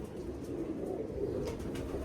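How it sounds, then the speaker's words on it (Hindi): Soft, low pigeon cooing murmurs steadily beneath a constant hum of background noise, with no voices. "कबूतर माशाल्लाह नहा धो के फ्रेश हो रहे हैं।"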